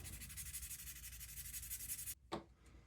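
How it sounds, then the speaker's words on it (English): Fine 400-grit sandpaper scrubs steadily across a plastic model part, a close, soft rasping that continues for about two seconds, then stops with one brief scrape. "we're using 400 grit here, so now I'll work our way up through some finer grits to smooth out all those scratches"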